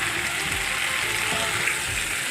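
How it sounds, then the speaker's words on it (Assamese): Pigeon meat and spices fry in a pan, giving a continuous close hiss and sizzle with faint scraping clicks, loud and steady over a few seconds without speech. "মাংসখিনি আৰু মছলাখিনি অলপ টাইম মই ভাজি ল'লোঁ"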